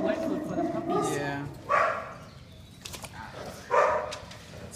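Small dog yips and barks from a mother dog and her puppies mixed with a woman's speech, a couple of sharper bursts standing out near the mic.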